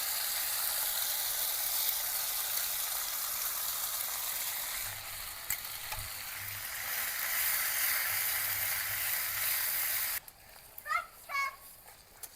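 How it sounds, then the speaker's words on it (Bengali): Ground spice paste frying in oil in a wok, a steady hiss of sizzling close by. Later a faint low hum joins in, and near the end some brief clattering stirring sounds cut through the sizzle. "কড়াইতে তেল দিয়ে দিয়েছি। এইবার কিন্তু বেটে রাখা মশলা প্রথমে দিয়ে দেবো।"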